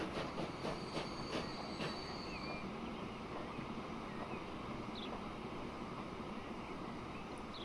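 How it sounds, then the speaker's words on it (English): A train pulling away in the video game Transport Fever 2 rumbles steadily, with rhythmic clicking wheels and faint high squeals early on, fairly quiet and continuous with no talk. "now we're gonna have to wait for a train to leave"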